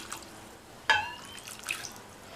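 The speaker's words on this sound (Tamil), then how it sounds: "முங்குற அளவுக்கு தண்ணி சேர்த்து" Water is poured into a kadai holding chopped carrot and chow chow for kootu, a brief splash with dripping and a faint ringing trickle, close and otherwise quiet.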